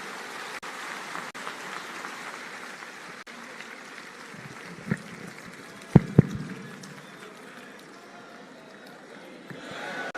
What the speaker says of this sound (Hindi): एक बार जोरदार तालियां द्वारा अभिनंदन